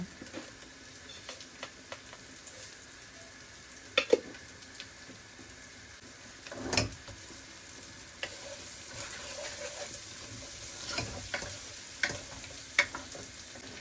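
Fish frying in a home kitchen pan, a quiet steady sizzle with scattered soft clicks and pops and a brief louder burst midway, no voices.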